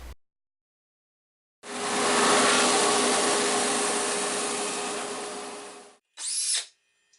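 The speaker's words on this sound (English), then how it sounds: "This heavy-duty double drum sander that I got from Canadian Woodworker is sure good." A General Model 15250 heavy-duty double drum sander in a woodworking shop spins up from silence into a loud, steady broadband roar that slowly fades as it winds down, followed by a short separate whirring burst.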